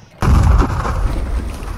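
A single sudden heavy artillery blast at a Battle of Mansfield reenactment cuts in after a brief quiet moment, then a loud rumbling roar lingers and slowly fades.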